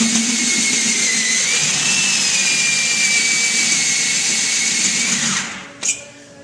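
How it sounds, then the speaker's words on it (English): A bimetal hole saw cuts a bung hole in a tank with a loud, steady, high-pitched whine that shifts slightly in pitch before winding down, followed by a brief clunk. "Get the bit set in the pilot hole"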